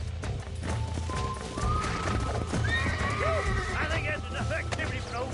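Horse neighs and clip-clopping hooves in the Red Dead Redemption video game, a loud whinny rising over steady hoofbeats, with a voice talking through parts of it.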